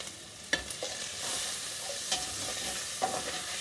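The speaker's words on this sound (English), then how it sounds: "So you want your bacon to cook all the way through" Bacon frying in a pan for a bacon gravy, a steady close sizzle with occasional louder pops and scrapes of stirring.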